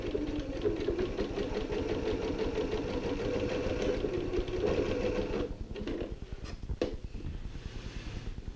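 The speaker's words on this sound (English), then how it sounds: "go ahead and take it over to your machine and stitch it down" A sewing machine stitches down trim on an ironing board cover, a close, rapid mechanical chatter running steadily, then slowing and breaking into a few separate clicks near the end.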